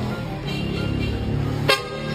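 A short, sharp car horn toot sounds once over steady background engine and road noise.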